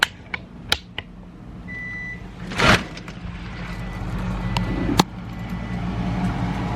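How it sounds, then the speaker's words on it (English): A car pulls up at home, its engine rumbling low and steady beneath a few sharp clicks and knocks, with a brief whooshing burst partway through. "Thought I heard his car."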